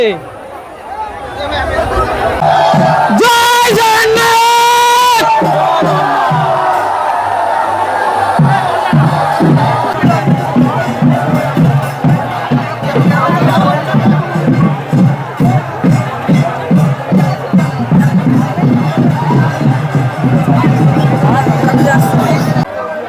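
A huge crowd of around 100,000 gathers at a historic Rath Yatra chariot festival fair with a roughly 300-year-old chariot, making a loud, dense roar of shouting and rhythmic chanting, with voices talking close by.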